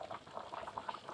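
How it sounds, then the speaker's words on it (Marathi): Chicken curry bubbles in a pot over a wood-fired stove, soft, close gurgling pops repeating irregularly at low volume with no talk. "वा मस्त उकळते चुलीवरती"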